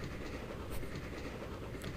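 Locomotive running in the Grandia video game, a steady rumbling train sound with rhythmic clatter, moderately quiet and without talk.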